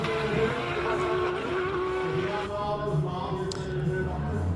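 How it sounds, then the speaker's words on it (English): A GTR-bodied space frame race car with anti-lag climbs a hill-climb course, its engine a loud, steady rasp with shifting harmonic tones and crackly bursts, held at close range for the whole stretch. "Gosh, that anti-lag goes through your core when it kicks."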